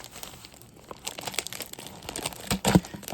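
Beyblade packaging being cut open with a knife, close-up crinkling and tearing of plastic in irregular bursts that grow louder toward the end.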